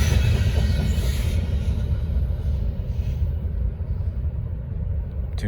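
A Norfolk Southern freight train, NS 154, rolls past on the Charlotte District with a steady, loud low rumble of wagons on rails that fades slightly near the end.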